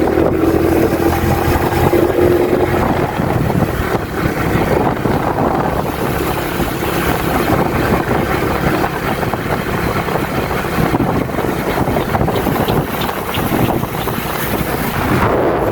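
Steady wind roars and buffets the microphone without pause, a dense outdoor rush with a low rumble underneath and no voices.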